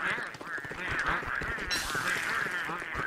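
Pengull birds in Don't Starve squawking and honking repeatedly in a noisy cluster, a steady stream of nasal, duck-like calls close by.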